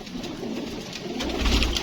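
Pigeons coo softly in a Karachi hobbyist's loft, a low continuous burble close by, growing slightly louder toward the end of the short stretch with no voices.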